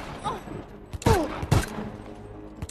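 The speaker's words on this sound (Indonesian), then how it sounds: "Wade langsung menembak mereka" Film gunfire as a character shoots, heard as a few sharp, loud bursts spaced across the moment, each with a quick ringing tail over a low background bed.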